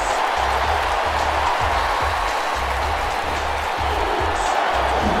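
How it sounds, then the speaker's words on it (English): A football stadium crowd at a San Francisco at Cleveland preseason game chanting defense, a loud rhythmic roar with regular pulsing beats repeating about every second, dense and continuous throughout. "Crowd chanting defense."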